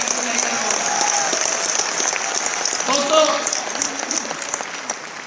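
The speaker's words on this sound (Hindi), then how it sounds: "ताली थोड़ा दमदार होनी चाहिए" An audience at an RCM Business award event applauds, with a continuous patter of clapping carried along under a voice as he addresses the crowd.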